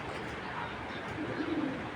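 Pigeons at a tournament coo in a low, soft murmur that carries on through the whole short stretch, with no voices over it.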